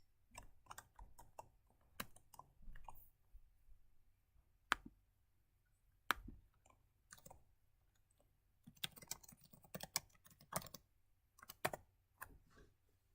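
Typing on a computer keyboard in bursts of quick, crisp key clicks separated by short pauses, quiet and close, no voices.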